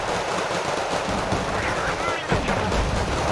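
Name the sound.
artillery and gunfire in video game Wargame: Red Dragon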